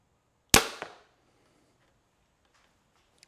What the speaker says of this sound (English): the next step is to shoot it 20 yards with the top pin